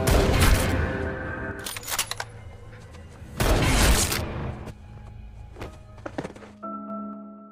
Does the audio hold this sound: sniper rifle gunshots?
yes